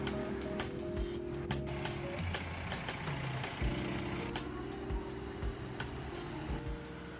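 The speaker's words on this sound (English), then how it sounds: "the roads of Tripureshwar ring with the occasional passing vehicle." On a quiet December city road in Tripureshwar, Kathmandu, a few vehicles pass at a distance, their engines rumbling low under scattered clanks and tonal beeps, fairly faint overall.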